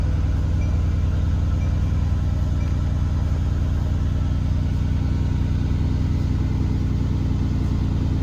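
A 2016 Mercedes-AMG GT S sits on a cold engine and idles with a deep, steady rumble. The low throb holds even and continuous at close range, with no voices over it.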